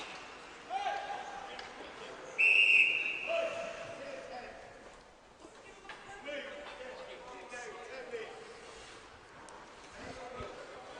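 At a university ice hockey nationals game, a referee gives one sharp, shrill whistle blast that rings out over the arena din, with people talking nearby.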